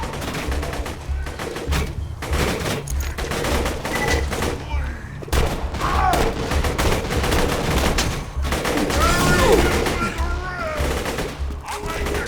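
Automated turret fire in Borderlands 2 hammers continuously in rapid loud bursts, layered with other gunfire and combat effects throughout the fight.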